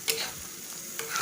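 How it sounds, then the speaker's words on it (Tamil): Egg gravy being stirred in a pan, its oil separating, with a few light scrapes and clinks of a spoon over a soft, steady sizzle, close and fairly quiet with no voices. "நல்லா கலந்து விட்டுருங்க."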